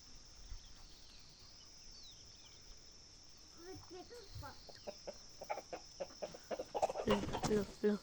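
Quiet rooster clucks start midway and grow into a run of louder, closer clucking toward the end, with faint rustling and a voice nearby.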